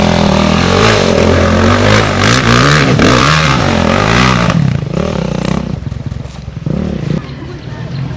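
A rally motorcycle engine revs hard during a cross-country race in Kenya, loud and close with rising and falling pitch, easing off toward the end while a narrator talks over it.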